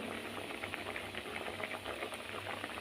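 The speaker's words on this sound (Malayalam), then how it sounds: "നല്ലോണം തിളച്ച് കറി നല്ലോണം തിളക്കുവാണ് കറി" Crab curry bubbling in a pot at home, a soft, continuous low burble of boiling with a faint steamy hiss throughout, quiet and close.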